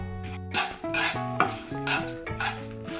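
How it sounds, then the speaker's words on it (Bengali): Whole spices and black pepper dry roasting in a kadai, stirred with repeated scraping and clinking against the metal pan, steady and close, with a ringing musical tone running underneath. "এবার সব মশলা 2 মিনিট কড়াইয়ের মধ্যে আমি ড্রাই রোস্ট করে নেব"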